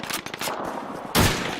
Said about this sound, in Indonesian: Ada yang nembak.